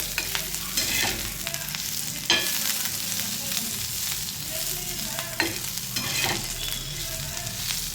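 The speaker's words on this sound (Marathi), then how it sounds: "इथे गॅस बंद करायचा आहे आणि थोडी हलकी कोथिंबीर परतून घ्यायची आहे।" Curry leaves and coriander sauté in a hot masala pan, a steady close sizzle broken by occasional spatula scrapes and stirring knocks, with no talking.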